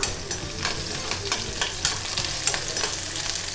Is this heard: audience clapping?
no